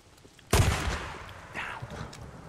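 A single heavy gunshot from the video game Days Gone bursts out loud and close, then rings off. A softer rattle follows about a second later with its own tail.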